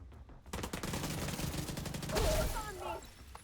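Rapid bursts of video game gunfire crackle through a heavy shootout, dense overlapping shots and automatic fire sustained at loud level throughout, with a voice shouting briefly near the end.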